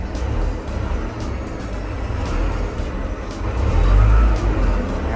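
A Komatsu 510 wheel loader runs in first gear, its diesel engine giving a steady low rumble that swells slightly louder toward the end, heard close with no clear talk.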